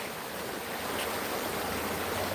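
McMillan Creek flows with a steady, broad rushing hiss close to the listener, continuous and even throughout, with no voices.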